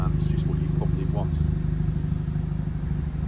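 A 2013 VW Beetle 2.0T Sport engine idling with a low, steady, slightly throaty hum close by, while someone talks over it.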